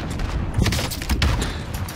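Scattered gunfire from the video game Battlefield-style match Sticks and Stones on the Caldera map, several shots and bursts at mid distance over a steady noisy background, with no talking.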